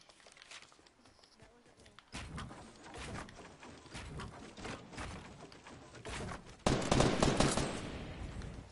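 Gunfire in a video game, bursts of rapid shots that come in dense clusters and grow louder toward the end, with no voice over them.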